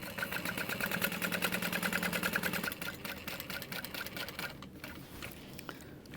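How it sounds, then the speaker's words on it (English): A sewing machine runs steadily, sewing a very narrow box stitch on a fabric Marsupial hip bag. A fast, even mechanical whir fills the first few seconds, then shifts to a lighter, slower patter of stitching. "we're gonna sew a really, really skinny box stitch starting underneath at the bottom"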